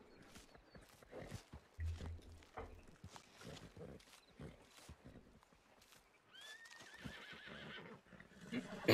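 Horses neigh and whinny in the Red Dead Redemption 2 video game, amid clip-clop hooves and other mixed game sounds that rise and fall in loudness.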